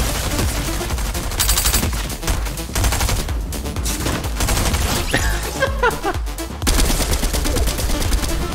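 Dense, continuous automatic gunfire crackles nonstop through a Fortnite match, loud and layered with overlapping shots and explosions.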